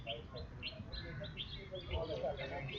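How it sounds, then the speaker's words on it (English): Birds chirp and tweet around a cricket field on a sunny day during a match, short bright calls repeating at a moderate distance over a steady outdoor background. "A lot of birds are moving around on the field"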